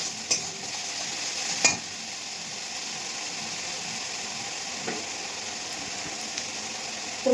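Meat cooking in a pan gives a steady, quiet sizzle, broken by a few sharp clinks of a utensil stirring against the metal, no voices.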